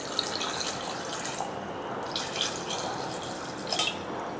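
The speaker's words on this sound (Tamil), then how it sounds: "காய் வேகிற அளவுக்கு 2 டம்ளர் தண்ணி ஊற்றிக்கலாங்க." Water is poured from a tumbler into a pot of cut elephant foot yam in a home kitchen, a soft steady splashing trickle with a few louder bursts, close and fairly quiet.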